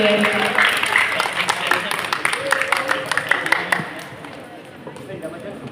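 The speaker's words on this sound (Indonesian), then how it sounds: "berikan tepuk tangan yang meriah untuk kedua tim" Applause for two school debate teams at a final, scattered clapping that thins out over several seconds, with voices talking over it.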